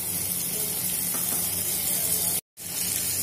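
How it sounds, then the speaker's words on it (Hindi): Three spoonfuls of butter melting in a pan for white sauce, giving a dense, even hiss of sizzling close up that runs steadily, briefly cutting out to silence before resuming, with no voices. "बटर को मेल्ट होने देंगे"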